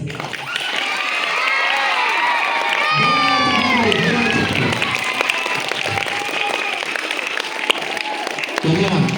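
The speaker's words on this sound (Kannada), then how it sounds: "ಪಾರಿವಾಳ ಆರಿದ ನಂತರ ಜೋರಾಗಿ ಚಪ್ಪಾಳೆಯನ್ನು ತಟ್ಟಲಾಗುತ್ತೆ" At an outdoor school event, a large crowd with many children claps loudly and cheers right after pigeons are released, a dense, sustained roar of applause and shouting voices.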